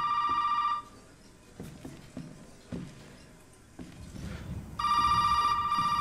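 In Resident Evil 7, a telephone rings in two loud electronic bursts with a pause between them, while footsteps and soft movement sound in the quiet.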